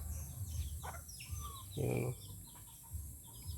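Several roosters kept together cluck and call in short bursts, fairly faint and close, with one louder call near the middle and someone speaking briefly among them.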